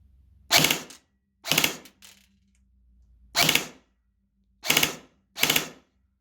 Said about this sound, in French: je vais aussi essayer le mode rafale si vous voulez. Hop, je tire dans mon Crony